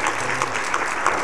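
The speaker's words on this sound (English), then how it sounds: "You clap your hands for the Lord." A church congregation clapping their hands during a worship sermon, a steady wash of many claps continuing evenly for a moment.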